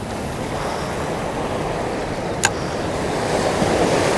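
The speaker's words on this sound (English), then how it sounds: "But these waves are really starting to come in." Ocean waves break on a rocky shore along the New York City coast in a steady, close surf roar with wind buffeting, broken by one brief sharp tick midway.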